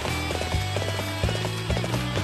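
A horse gallops in the video game Dynasty Warriors 7 Empires, its hooves beating in a quick, steady rhythm that stays close and clear throughout.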